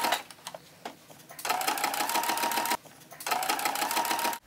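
A sewing machine stitches a curved seam in fabric with two long bursts of fast, steady whirring, separated by a brief pause and close to the mic, with no talk.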